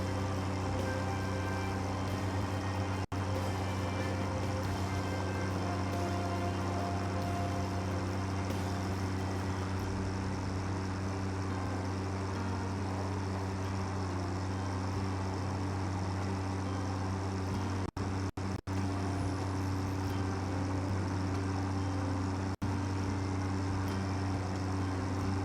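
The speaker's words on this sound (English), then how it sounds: "There's also these tractors riding back and forth" Tractors driving back and forth in the factory-building video game Satisfactory, with a steady, dense engine rumble and hum running continuously throughout, plus a few brief clicks, and no voices.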